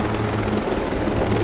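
A loud helicopter in the shooter game Ghost Recon Breakpoint roars on without a break, its low rotor thrum steady and close for the whole short stretch.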